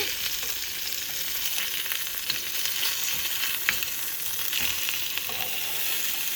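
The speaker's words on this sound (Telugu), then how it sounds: "సో ఇలా ప్యాన్లో పెట్టేసి ఈచ్ సైడ్ ఒక 4 minutes మనం ఫ్రై చేసుకుంటే ఫిష్ ఫ్రై రెడీ" Fish fillets frying in a pan for a kids' dinner give off a steady, dense sizzle and crackle that holds throughout at an even level, with a few faint spatter pops and no voices.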